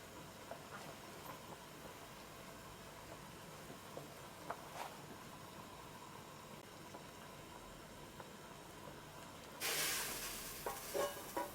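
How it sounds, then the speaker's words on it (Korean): Samgyetang made with ot (lacquer tree), a chicken soup, boiling hard in a pot on high heat, a steady low bubbling churn with faint clinks, then a sudden louder hiss and clatter near the end, no talk. "아주 팔팔 잘 끓고 있, 잘 끓고 있네요."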